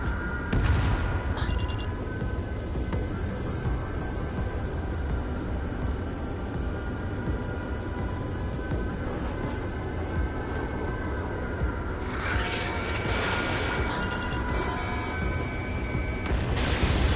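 Aircraft guns firing at a target in a PS5 flight combat game, a steady dense roar of engine and cannon fire with sharper bursts near the start and toward the end, loud and continuous without speech.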